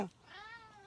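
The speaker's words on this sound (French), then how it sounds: "c'est mon chat" A cat gives a single short, close meow, rising then trailing off, heard alone without speech.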